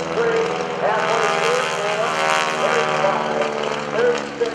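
A loud, continuous drone of a single-engine aerobatic plane's engine and propeller at an air show, its pitch wavering as the aircraft maneuvers, with a public-address announcer's voice mixed underneath.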